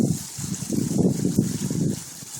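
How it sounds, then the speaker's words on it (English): A small garden pond waterfall trickles and splashes into a larger pond, a soft, steady, close burbling of water with gentle fluctuations and no voices. "nice little waterfall there"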